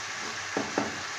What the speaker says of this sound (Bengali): 10 মিনিট ধরে এটাকে কষিয়ে নেব।